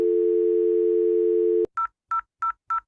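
An office desk telephone in a phone-handling training session: a steady dial tone for about a second and a half, then four short evenly spaced electronic rings, clear and close with no talk.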